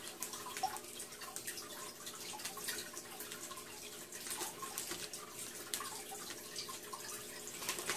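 Water is poured out of a container holding an electric catfish, a continuous splashing trickle with drips, close and fairly soft, with no talk.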